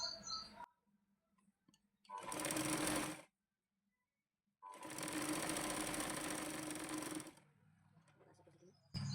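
A sewing machine stitches a strip onto a blouse in two loud bursts, a short run and then a longer steady whir, separated by quiet pauses with faint handling clicks.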